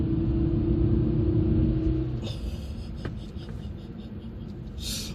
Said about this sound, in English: I love Volvo white block engines. They make such a great noise.